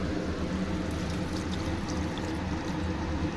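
Hot water poured into a dry, oil-released mutton and potato curry, a dense continuous rushing wash of liquid close by for a few seconds, with no voices.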